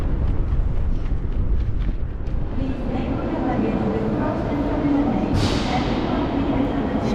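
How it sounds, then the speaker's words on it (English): Station ambience inside Gare du Nord, the large north Paris train terminal: a steady, dense rumble of rail activity and crowd murmur, with a brief higher whoosh or squeal rising partway through. "Paris du Nord, the North Paris train terminal."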